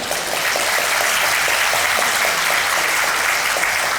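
Steady crowd applause from municipal staff at a town-hall style meeting, a dense continuous patter of many hands clapping at even loudness throughout.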